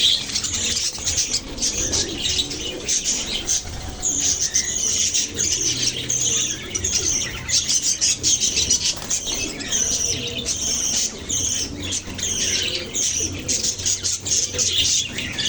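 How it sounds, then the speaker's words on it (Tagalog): Pet lovebirds chirp and squawk in a busy, continuous chorus of sharp, high calls, close and lively, with occasional flapping and no speech. "malilibang ka at nakakatuwang pagmasdan ito mga alaga kong lovebirds"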